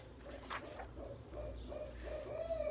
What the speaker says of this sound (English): Hopefully you can continue to hear those owl noises in the background.